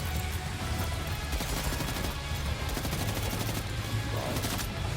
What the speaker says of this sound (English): Machine pistol.